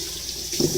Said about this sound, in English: Wash my poor little hot hands off here.